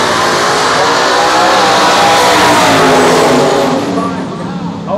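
A turbocharged drag race car launches hard off the trans brake at a dragstrip, its engine roaring loud and broadband throughout, easing slightly toward the end as it pulls away.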